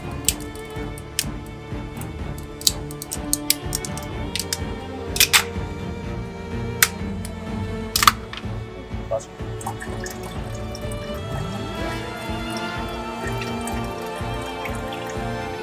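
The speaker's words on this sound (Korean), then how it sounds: "이 과정에서 레진이 수축하며 유리 패드에서 자연스럽게 분리되는데" UV-cured resin on a glass pad, quickly cooled with cold water, shrinks and separates with scattered sharp ticks and crackles over a constant faint watery hiss, and a few louder snaps stand out.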